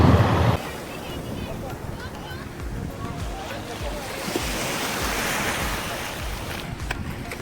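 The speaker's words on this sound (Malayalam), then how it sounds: "കടൽ ഇപ്പം തന്നെ കുറച്ചൊരു റഫാണ് ഇത്രയും തിരയൊന്നും കഴിഞ്ഞ മാസം ഉണ്ടായിരുന്നില്ല" Rough sea waves off Lakshadweep wash in a steady broadband surge with wind buffeting the microphone, opening with a brief louder burst before settling into a continuous close roar.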